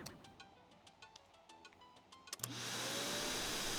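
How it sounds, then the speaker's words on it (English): A vacuum cleaner switches on partway through after some quiet ticking and tapping, then runs as a steady, fairly loud whirring drone to the end, with no talk. "Vacuum cleaner."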